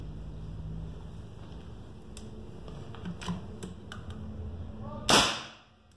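A Fox M22 air rifle modified to .30 calibre fires one sharp, loud shot near the end, preceded by faint mechanical clicks and handling noises during loading, with a short decaying tail after the report.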